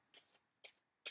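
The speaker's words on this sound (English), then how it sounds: "shuffle these cards" Tarot cards are shuffled in three short, quiet riffling bursts spaced roughly half a second apart, close by, with nobody speaking.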